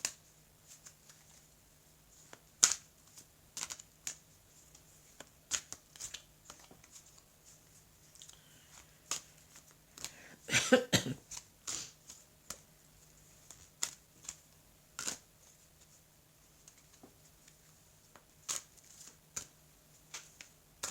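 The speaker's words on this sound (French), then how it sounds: "Alors, je vais étaler les cartes." Oracle cards are shuffled and then spread out on a surface, making soft, sparse clicks and flicks with one denser riffling burst midway, faint and close in an otherwise quiet room.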